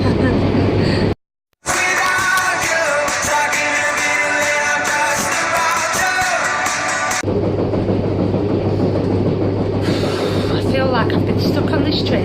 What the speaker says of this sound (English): Stuck on this train for like ever.